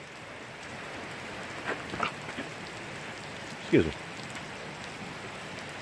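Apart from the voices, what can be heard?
rain falling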